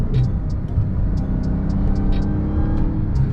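Dodge Hellcat engine holding a steady high-rev roar while a paddle-shift downshift is refused, a loud, close, continuous drone with faint clicks over it.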